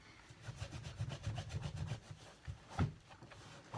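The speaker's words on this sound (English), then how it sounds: "So with a little bit of pressure, we're just going to push down and we're going to rub" A microfiber cloth is rubbed firmly back and forth over a white sneaker sole, making a quick run of close, rhythmic scrubbing strokes, then a short pause and a few more swipes.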